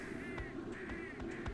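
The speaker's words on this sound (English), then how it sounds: "I hear those stupid crows." Crows caw in Trainz 2022 around the Hatchet Creek logging camp: harsh, ragged calls repeat about four times in quick succession, at moderate distance over steady ambient background.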